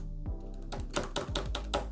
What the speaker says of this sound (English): You will notice it's quite loud on the tap.